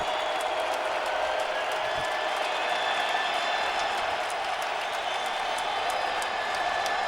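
A stadium crowd at an Indianapolis Colts NFL game makes a steady, distant wash of applause and murmur. The sound stays even throughout, with scattered claps rising above it.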